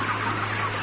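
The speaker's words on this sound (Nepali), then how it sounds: "38 दिनका कुखुरा" Broiler chickens about 38 days old fill a modern farm shed with a dense, steady wash of clucking and rustling, with ventilation hum beneath.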